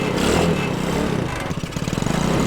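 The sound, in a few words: cheap Walmart gas tractor engine running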